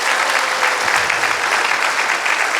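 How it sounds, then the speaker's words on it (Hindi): Steady, dense applause from a crowd, sustained clapping throughout with no pauses, fairly loud and close. "मैं चाहूंगा जोरदार ताली होनी चाहिए"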